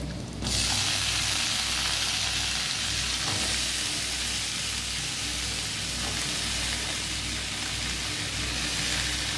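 Brinjal and onion frying in oil in a pan, seasoned with turmeric and salt, giving a steady close sizzle that continues throughout with occasional scraping stir sounds.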